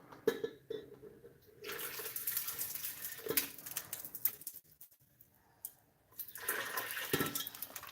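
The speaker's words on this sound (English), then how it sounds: "I'm going to have to dump some of the water into the bowl" Water poured from a container into a bowl, splashing and trickling in a few bursts with brief clinks between them. The pouring is close and fairly quiet, with no talking.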